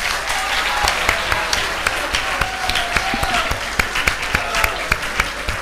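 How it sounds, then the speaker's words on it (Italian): Students in a room applaud during a talk about Parliament, a lively burst of many hands clapping with sharp individual claps standing out, sustained and fairly close. "fatevelo un applauso"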